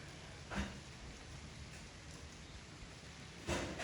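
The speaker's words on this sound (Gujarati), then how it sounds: "કેવો આવે વરસાદ?" Light rain falls steadily on a home terrace as a soft, even hiss, broken by two brief, slightly louder splashes or patters.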